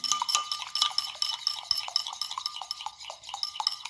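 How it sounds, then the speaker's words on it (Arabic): A spoon stirs honey and natural yogurt in a bowl, tapping and scraping the sides in quick, light, repeated clinks, quiet and close, with no talking. "صافي نبدا نخلط في المكونين"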